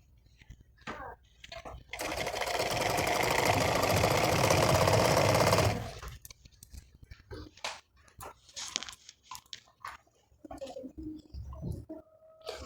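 Sewing machine stitching a saree, a steady loud whir running about four seconds on its own, followed by light handling noises and scattered short knocks as the fabric is moved.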